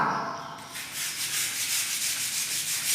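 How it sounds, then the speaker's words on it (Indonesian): Steady rubbing of sandpaper against a painted wall, smoothing a raised paint edge left after remover, continuous and fairly close with no voices. "yang timbul wajib diamplas terus hingga tidak ada lagi yang menimbul."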